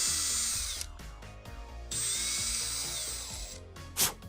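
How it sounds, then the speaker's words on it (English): A power drill whines at high speed drilling holes in plastic, stopping and restarting several times in short bursts, close by, with a brief sharp burst near the end. "Now I'm grabbing my drill and drilling out some other holes. The drill is spinning."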